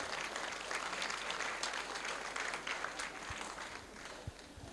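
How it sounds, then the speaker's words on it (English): A crowd applauds steadily at a farewell lunch in Samoa, dense clapping holding at a fairly even level throughout with a few sharper claps near the end. "Let's give a round of applause for what has been presented already."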